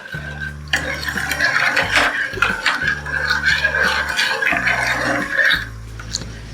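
A spoon stirs jelly powder into water in a pot, with light scraping and clinking strokes over a steady background tone.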